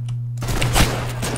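Gunshots in Roblox Trench Warfare, a couple of sharp close bangs over a steady humming background with a rattling burst in the middle, brief and loud.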